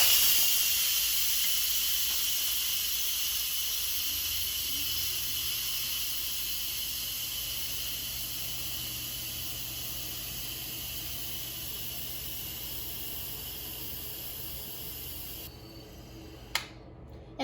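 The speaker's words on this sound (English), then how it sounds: "So what we need to do is quick release the steam." A loud, steady hiss of steam rushing out of an Instant Pot pressure valve during quick release after cooking beets runs almost continuously, then stops abruptly near the end.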